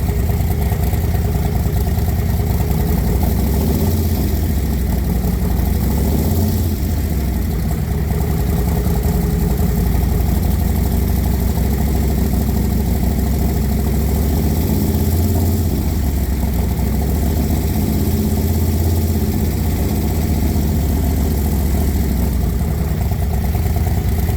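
A motorcycle engine idles loud and close, then is revved gently to about 2,000 RPM and back, a steady low rumble with smooth, mild swells and no sharp throttle snaps, with no talk.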